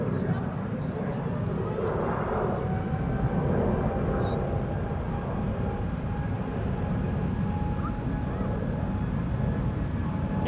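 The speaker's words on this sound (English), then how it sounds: "This is KLM flight 677, 777-200 going to Calgary" KLM Boeing 777-200, nineteen years old, departing Schiphol: a moderate, continuous jet engine roar with a faint high whine, steady throughout, with voices talking beneath it.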